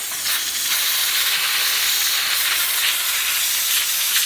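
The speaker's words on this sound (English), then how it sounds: "So what we need to do is steam clean the gates. So that's what I'm doing." A steam cleaner blasts a continuous loud, bright hiss as it cleans metal sheep pen gates on a farm, steady and close with no talking.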